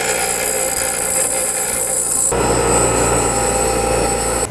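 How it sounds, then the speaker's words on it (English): A bench grinder cleaning and rounding off a metal part for a Fairmont project, a loud steady whir whose tone shifts abruptly midway as the part presses against the wheel. "I'm going to take it over to the grinder and finish it up, clean it, round it,"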